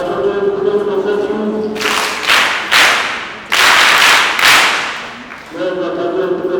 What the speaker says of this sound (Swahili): Leo natakiwa kuna makofi kama haya sawa